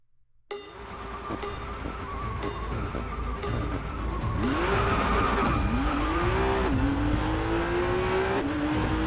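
Maserati MC20 in the Racing Master driving game taking the Nürburgring Carousel: the engine climbs from quiet into a loud, sustained rising whine as the car revs through gears, with tire squeal and a steady roar, no talk.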